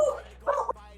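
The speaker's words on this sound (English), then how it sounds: "The dog agrees." A dog gives two short, close barks or yips about half a second apart, tonal and fairly loud indoors.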